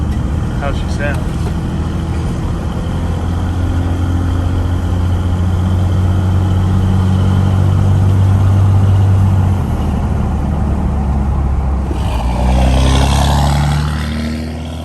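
A second-gen Cummins pickup, recently switched from stock exhaust to an MBRP 5-inch straight pipe, idles nearby with a steady deep diesel rumble, swelling briefly louder near the end as the engine is revved.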